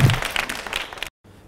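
A studio audience on a TV talk show claps for an arriving guest in a brief burst that stops abruptly, then near silence.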